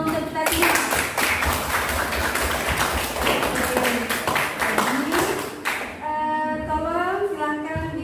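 Classmates in a school classroom clap together in a dense burst for several seconds, with lively voices and chatter mixed in, then the clapping stops and a teacher's voice carries on alone.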